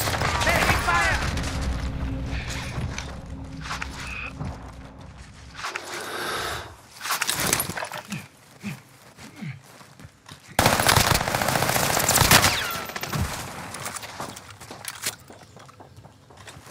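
Gunfire in a first-person shooter video game, with bursts of shots clustered across the clip, loudest in a dense stretch near the end and mixed with game effects.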